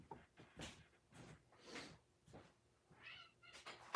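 A domestic cat meows several times in a row, asking to be let outside. The calls are close, clear and repeated over a quiet indoor background.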